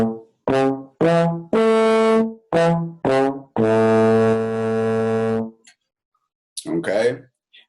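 A minor triad played on a brass-like wind instrument: a run of six short, detached notes, then one long sustained tone held for about two seconds. The notes are loud and close, followed by silence and a brief voice-like sound.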